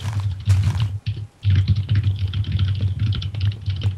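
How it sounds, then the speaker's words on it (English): Rapid typing on a computer keyboard, a steady stream of close, loud key clatter with one brief pause, heard alone without voices. "Who is typing like that?"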